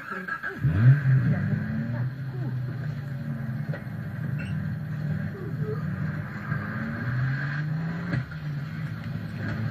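A jeep drives in Far Cry 3, its engine droning steadily at close range with a revving surge near the start and small bumps and knocks throughout.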